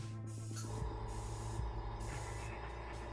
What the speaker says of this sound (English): this is full blast, and I'm at 30 PSI on the compressor